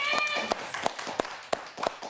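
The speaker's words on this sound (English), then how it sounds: "we got that awkward, scattered applause" Sparse, scattered clapping from a small audience at a G4 gaming show segment on sexism in gaming: about half a dozen separate, uneven claps spread over two seconds, thin and hesitant, with a faint voice underneath.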